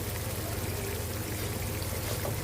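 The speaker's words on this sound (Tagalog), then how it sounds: "Lagay na natin yung tomato sauce." Tomato sauce being poured into a pot of pork menudo with cooked potatoes, a soft continuous stream-like pour under a faint background hiss.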